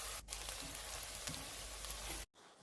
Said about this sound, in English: turn the heat to low medium and add in diced onions